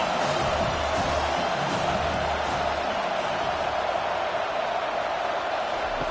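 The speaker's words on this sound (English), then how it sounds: "Decibels rising as the crowd gets behind this defense on 3rd down." A steady, loud stadium crowd roar builds behind the defense on a third down in College Football 25, Ole Miss against South Carolina, a dense wash of cheering with no clear voices on top.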